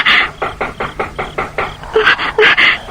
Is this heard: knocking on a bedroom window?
yes